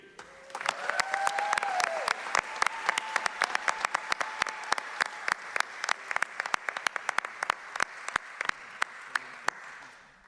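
Sustained applause from an awards-ceremony audience for a short film honoree, dense clapping that swells early, stays steady, then thins into a few scattered claps at the end, with a musical tone sounding beneath it at the start.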